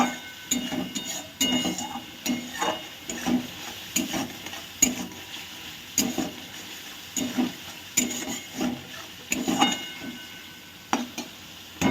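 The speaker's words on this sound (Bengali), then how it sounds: "মশলাটা ভালো মতো কষানো হচ্ছে" Mustard paste and yogurt masala sautéing in a pan, soft continuous sizzling with frequent rhythmic scraping stirs of a spatula, close and moderately quiet, no voices.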